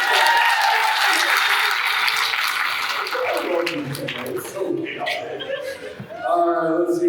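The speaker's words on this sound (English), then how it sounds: "Give that a round of applause." An audience at the Windblume Festival 2024 VO Rodeo breaks into loud, sustained applause that fades over several seconds. Laughter runs through it, and voices come in near the end.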